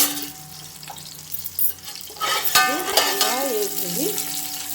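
Shahi jeera crackles and sizzles as it hits hot oil in a pan, a bright spitting fry that swells partway through and keeps sputtering to the end.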